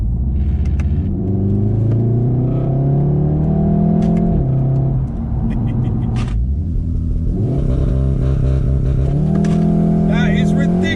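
Volkswagen Golf R launching hard, a loud engine roar that climbs in pitch, dips at each gear change and climbs again, heard from inside the car.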